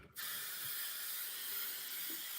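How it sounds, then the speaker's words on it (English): A steady aerosol hair spray hisses continuously onto a head for a couple of seconds after a brief pause, close and fairly loud. "I'll spray this side and then continue."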